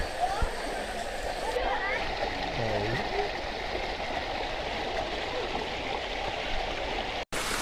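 Heavy monsoon rain over a stream running past a house, a steady, dense rushing roar throughout, with a voice briefly audible early on and a sudden cut near the end.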